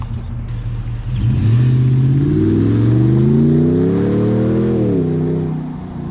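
A Ram truck with a throttle controller set to normal mode accelerates, its engine rising in a loud, close, steady climb through the gears before easing off at the end.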